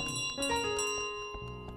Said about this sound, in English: Give me back my bell.